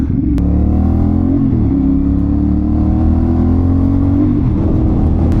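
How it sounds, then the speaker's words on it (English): A CFMOTO 450ss sport bike's 270-degree crank two-cylinder engine drones steadily and loudly while riding, with smooth pitch shifts as it changes revs. "You have the 270-degree crank 2-cylinder, which sounds like a Ducati or an R1, the baby versions of the two."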